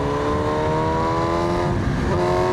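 BMW M1000RR Stage 2 motorcycle, a 2026 model, with its engine revving in Race Pro mode, a loud, steady, close high-pitched engine tone that climbs slightly in pitch with no talking.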